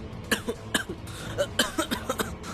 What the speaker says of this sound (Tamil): அவன் சும்மா தான் இருமுறான்